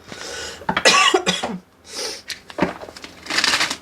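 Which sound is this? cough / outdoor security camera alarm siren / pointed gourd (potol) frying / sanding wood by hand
cough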